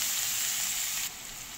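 Chopped onion hitting a hot pan while making rawa khichdi with lentils, a loud bright sizzle that drops partway and settles into a steadier, softer frying hiss.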